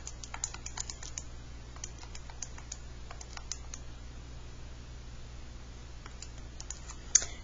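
Calculator buttons are pressed in quick, irregular bursts of light plastic clicks, close and quiet against a low steady hum.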